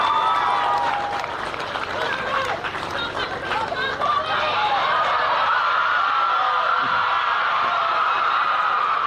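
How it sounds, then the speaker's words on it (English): Crowd applause with laughter and chatter at a college rugby league nines girls' final, a steady clapping wash building and holding loud through the whole stretch. "Could we please have a round of applause for them?"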